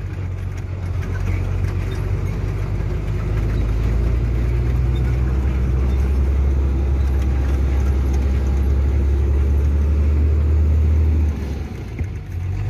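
Steady low truck engine rumble heard from inside the cab while riding, loud and continuous throughout, with faint rattles and no talking.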